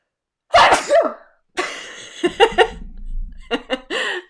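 A person sneezes sharply, very close, then breaks into giggling laughter with a few more short breathy bursts.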